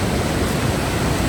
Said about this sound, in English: I've just come across this waterfall here, which is coming from the mountain up there